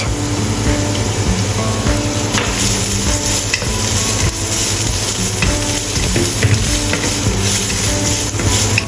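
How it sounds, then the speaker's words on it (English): Shredded carrot stir-fries in a hot pan for an abalone noodle dish, a loud continuous sizzle broken by scraping stirs and clatter, with no talk. "Stir-fry shredded carrot."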